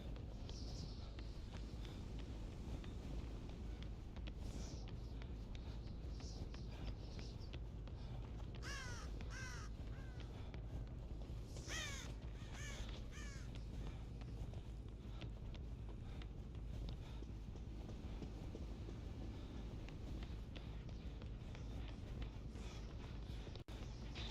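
Crows caw in the video game Dead by Daylight, several harsh calls in short bursts around the middle, moderately near, over a constant windy outdoor ambience with no talk.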